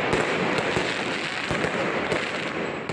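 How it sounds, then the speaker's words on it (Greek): Rapid crackling firecrackers and rockets bang continuously during an Easter rocket war in Vrontados, Chios, sharp pops scattered over a dense rumbling barrage, loud and sustained. "ακολούθησε πόλεμος με βροχή από πυροτεχνήματα, φωτοβολίδες, βεγγαλικά αλλά και μολότο"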